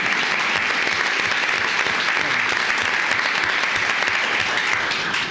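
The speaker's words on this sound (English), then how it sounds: "let's give one more big round of applause to all our employees" An audience at a county commissioners court meeting breaks into steady, sustained applause, dense clapping from a room full of people honoring employees.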